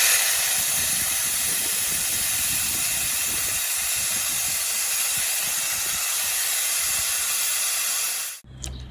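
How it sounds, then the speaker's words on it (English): A vacuum brake bleeder draws fluid through the bleed nipple on a Ducati Monster, making a steady, loud hiss that holds unbroken for about eight seconds and then cuts off abruptly. "turn the vacuum on, open the bleed valve, bleed nipple, keep an eye on the reservoir"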